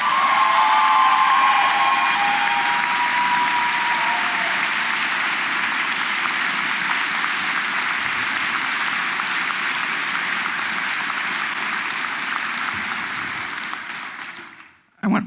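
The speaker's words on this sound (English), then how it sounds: "Can we give them one more round of applause?" Sustained applause from a large audience at an academic awards convocation, loud and steady with some cheering, rolling on for most of the stretch before tapering off abruptly near the end.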